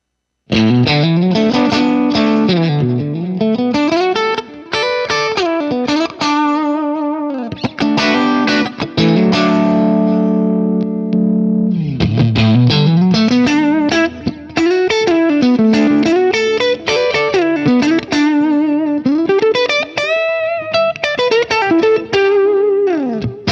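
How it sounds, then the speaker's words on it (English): An Ibanez Jem 70VSFG electric guitar with DiMarzio Evolution pickups plays clean, bright chords and flowing arpeggios continuously, with sustained ringing notes and a touch of shimmering effect. "So here's some of the nice clean tones I love to get out of this guitar."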